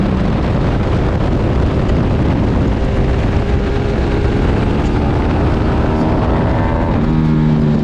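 Racing motorcycles roar around a race track in a loud, continuous wall of engine noise, with pitch shifting slightly as the bikes pass, and no voices.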